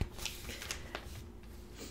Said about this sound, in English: I have to look in my catalog, so you're going to hear some rustling around here